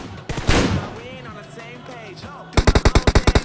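Rapid automatic gunfire bursts out in a mobile battle royale video game, a tight string of about ten loud shots at the end, after a stretch of indistinct voices and game sounds.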